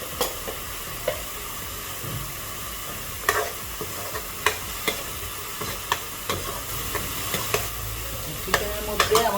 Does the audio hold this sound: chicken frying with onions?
yes